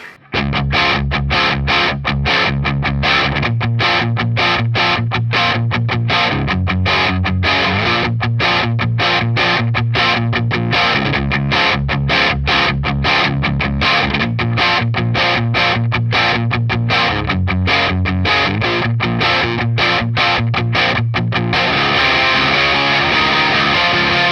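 Heavily distorted electric guitar through a RAT-style hard-clipping distortion pedal plays a chugging riff with crisp, gritty attack, continuous and loud, ending on a sustained fuzzy chord.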